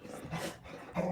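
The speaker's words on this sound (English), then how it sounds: "my dog picks the most appropriate moment to chime in" A dog growls and grumbles close by for about a second, a low rumbling sound with a few harsher vocal bursts toward the end.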